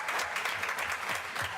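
Audience at a school board meeting gives students a round of applause, a dense continuous patter of many hands clapping at a moderate, even level.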